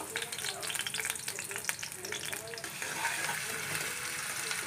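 Finely chopped garlic and ginger hitting hot oil in a small pan, a close crackling sizzle with bursts of spatter, while someone talks briefly over it.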